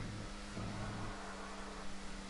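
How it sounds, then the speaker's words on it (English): A race car's engine in GTA V Online hums at a steady low pitch from some distance, shifting tone once or twice with a faint, even drone under the game's ambient noise. "We'll go have a little listen to this engine note so you can pick it up."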